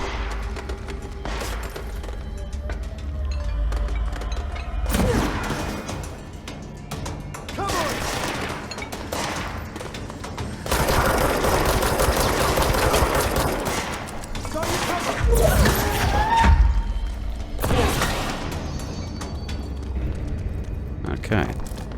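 Bursts of gunfire and heavy booms fill a firefight in the video game Control, with sustained automatic shooting layered over loud rumbling impacts while a voice talks at times.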